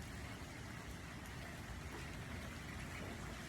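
Steady rain falls on the ground and on assorted objects, a soft, even hiss of drops that continues without a break and stays faint and distant throughout.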